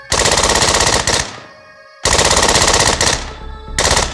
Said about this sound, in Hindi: हाँ, यकीनन ये तो गोलियों की आवाजें थी।